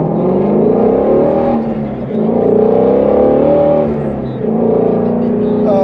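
A sports car engine roars loudly as it accelerates uphill with exhaust valves open, rising exhaust tones swelling and dipping through gear changes, close and sustained.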